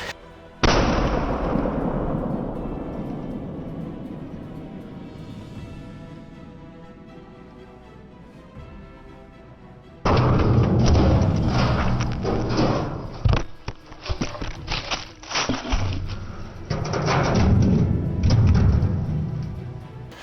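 Two loud gunshots ring out against an armour helmet, the first decaying over several seconds and the second opening a burst of sharp cracks and heavy thumps through the latter half; no talking.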